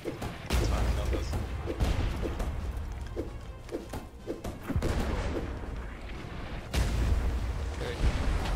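Ship cannons fire in the pirate naval game Blazing Sails, a handful of heavy booms landing a second or two apart over a constant roaring wash of battle noise.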